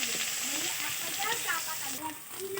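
Chopped garlic frying in hot oil in a pan after cumin, dried chilli and bay leaf, giving a steady close sizzle with crackling pops throughout.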